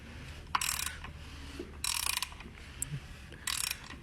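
An LS oil pump's gears are turned by hand in short bursts, giving three or four quick clicking, ratcheting runs separated by quiet gaps, close and clear.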